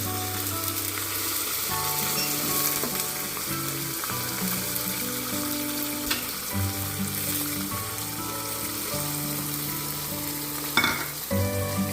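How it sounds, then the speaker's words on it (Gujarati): Pigeon peas (tuvar beans) fry in a pan for traditional Gujarati wheat khichdo, giving a steady close sizzle with stirring clatter, with no talk. "પછી એમાં અત્યારે સિઝનમાં તુવેરના દાણા આવે છે એ બી સારા શાકભાજી થાય એટલે એ બી આપણે એમાં એડ કરીએ છીએ"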